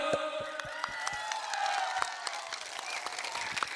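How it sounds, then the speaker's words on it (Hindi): Audience applause at a Tipra Motha mass rally: dense, steady clapping from a large crowd with scattered sharp claps standing out, sustained at even loudness throughout. "सब लोग अपने लिए एक ताली दो दो।"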